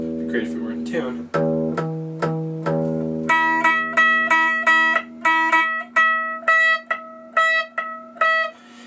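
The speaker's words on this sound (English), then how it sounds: "What you're hearing is the harmonic." Bell-like harmonics ring on a guitar, plucked one after another in a steady rhythm, first lower notes and then a run of higher chiming tones, each decaying quickly, close and clear with no talk over them.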